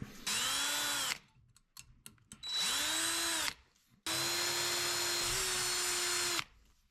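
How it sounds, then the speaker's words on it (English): A high-pitched power drill with a 1/16 metal bit whines in three bursts, biting into a metal spoon, with short pauses between and a longer final run. "we're going to take a 1/16 metal drill bit, and we're going to drill those holes out"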